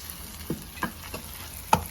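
Steady low sizzle of cumin and spices frying in hot oil for tempering dal makhani on a clay stove, with a few sharp taps of a spoon against the pan.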